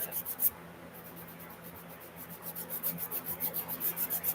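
Colour being rubbed side to side into a waterfall sketch on paper, a soft rhythmic scratching that speeds into quick regular strokes toward the end, close and quiet.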